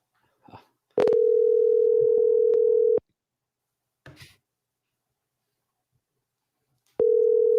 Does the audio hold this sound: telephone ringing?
yes